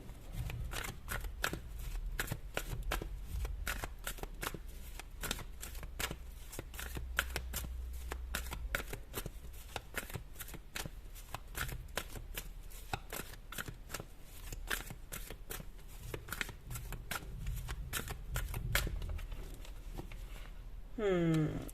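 Energy oracle cards are shuffled by hand in quick, repeated riffles and taps, a continuous papery flutter heard close up for the whole stretch.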